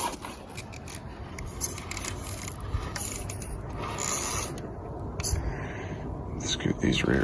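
Axial Capra RC rock crawler throttling up to climb a rocky crack: a close, busy whirr of electric motor and gears with scraping and clicking from the drivetrain, rising in intensity toward the end.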